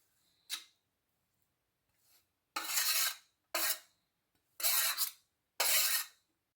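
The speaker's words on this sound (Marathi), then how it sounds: "आता याला छान मिक्स करून घेऊया" A spoon mixes grated fresh turmeric and ginger into a pickle mixture in a bowl, making about five crisp, scraping strokes in a steady rhythm, close and fairly loud, with short pauses between them and no talking.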